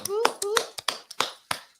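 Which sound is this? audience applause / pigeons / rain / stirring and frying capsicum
audience applause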